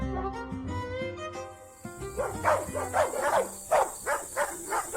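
Two dogs barking outside at night, a series of sharp repeated barks in an uneven rhythm, fairly close, following a sustained musical tone at the start.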